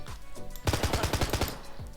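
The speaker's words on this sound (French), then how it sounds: "On va tester le pistolet mitrailleur, attention." Rapid burst of submachine gun fire in the Minecraft video game, about a dozen quick loud shots in steady succession after a short pause, then stopping.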